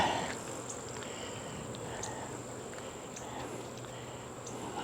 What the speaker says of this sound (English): This hive has lots of bees in it, so it's doing good.